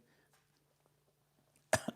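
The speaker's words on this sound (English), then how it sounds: "got a cough here" A single sharp cough close to the mic, with a quick second catch right after, following near silence.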